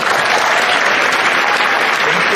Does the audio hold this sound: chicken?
no